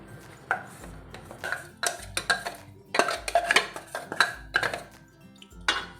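Metal clatter and scraping as a peanut and jaggery ladoo mixture is emptied into a wide metal plate, with repeated close knocks, rings and spoon scrapes in an uneven rhythm.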